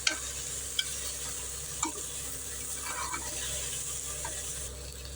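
Seeraga samba rice being stir-fried in a pan, a steady soft sizzle with occasional scraping stirs and clinks throughout.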